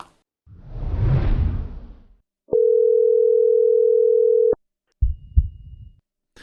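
A phone call placed to a local coin shop: a whoosh, then a single steady electronic tone of about two seconds, clean and loud, followed by faint rustling.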